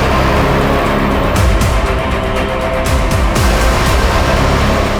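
A car reversing on a dirt track, engine running loud and close throughout, with tyre and gravel noise and revving changes.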